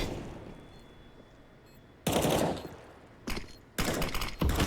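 Counter-Strike gunfire from an AK-47 and a Deagle breaks out after a quiet stretch, with loud, close bursts of rapid shots and a short separate volley in between.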